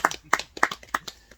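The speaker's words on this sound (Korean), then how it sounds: "박수 한번 쳐보시다" Audience members at a farming talk clap in a slow, even rhythm, giving about five distinct sharp claps that fade toward the end.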